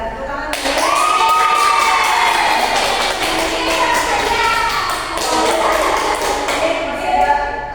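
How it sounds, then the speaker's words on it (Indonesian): Students in an Indonesian classroom clap together during a microteaching lesson, a dense burst of applause mixed with cheering voices that starts abruptly and carries on steadily to the end. "Kita tepuk tangan."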